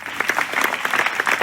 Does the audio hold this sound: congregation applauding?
yes